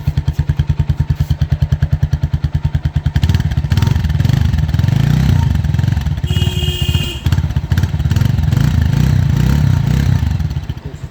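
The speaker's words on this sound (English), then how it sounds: "This is the sound of the bike." A TVS Apache 160 4V motorcycle engine idles with a steady close-up putter, then revs up into a louder, rougher drone that holds with a brief whine partway through, no one talking over it.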